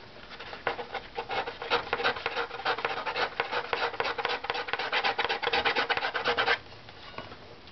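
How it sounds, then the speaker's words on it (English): A curved scraper rasps across a wooden top plate in quick, rhythmic strokes, a close, dry scratching that runs steadily for about six seconds and then stops, with no speech. "So this is a curved scraper, so I'm actually only touching."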